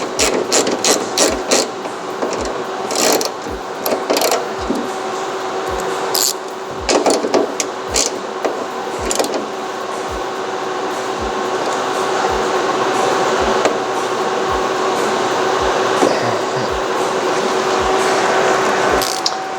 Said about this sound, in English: I like this baby ratchet.